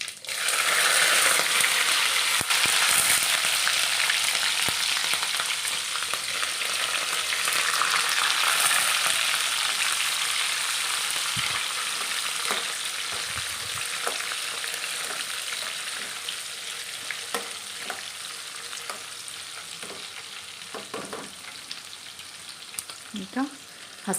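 Cumin seeds and green chillies frying in hot oil for a puffed-rice mandakki tempering, a loud close sizzle that gradually fades, broken by spoon clinks and stirring scrapes, with brief talking.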